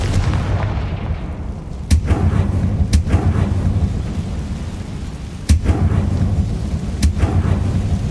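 Confringo fire spell blasts in the video game Hogwarts Legacy, four sharp explosive bangs bursting out over a steady rumbling game soundscape, loud and close with no talking.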